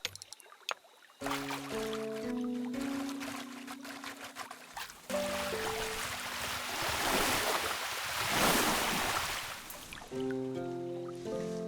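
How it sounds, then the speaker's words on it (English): Water is laid around cottages in the building game Tiny Glade: a soft, continuous wash of rushing and trickling water, swelling louder toward the middle, with light tonal music chimes layered over it. "now we can start putting in a little bit of water around some of these houses that we've made"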